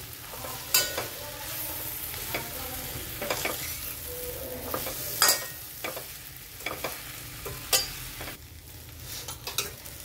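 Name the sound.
stir-frying leftover idli with masala in a pan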